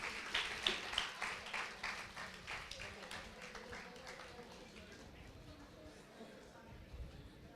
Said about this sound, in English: A big round of applause for all the winners.